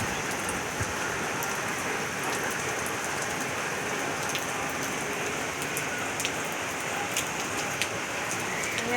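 Heavy rain pours steadily outdoors near a society hall, a dense continuous roar of drops with scattered sharper patters and no talking.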